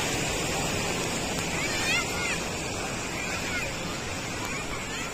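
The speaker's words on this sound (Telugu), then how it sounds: "మెయిన్గా అయితే భారీగా అట్లా వాటర్ వస్తున్నాయి చూడండి." Heavy floodwater rushing over and under the Sri Rangarajupalli bridge after torrential rain in Hindupur, a loud, steady broadband roar with gusts of wind noise on the microphone and a voice briefly talking over it.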